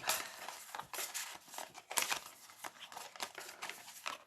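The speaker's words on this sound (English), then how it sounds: "I'm just going to shuffle these up." Rapid papery riffling and flicking of tarot cards, a dense crinkly shuffle with bursts of sharper snaps, fairly close and with no voices.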